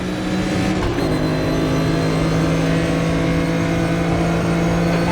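A BMW M1 Procar in the RaceRoom racing game at Interlagos brakes hard and locks up, its engine droning loud and steady with a brief harsh change as it slows.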